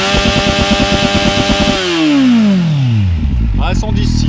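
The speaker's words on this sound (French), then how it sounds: "le petit Z800 de Mairie parce qu'il est dégoûté" A Kawasaki Z800 motorcycle engine is revved hard and close for a sound-level meter test, a loud buzzing roar held at high revs, then sliding steadily down in pitch as the throttle closes, with a brief voice at the end.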